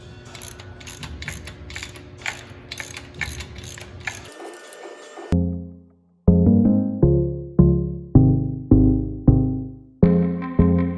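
A transmission unit slides along a tripod mount on a '56 build, starting with a rough scraping rattle and then a series of sharp metallic clanks with ringing, fading decay, loud and close, with no speech.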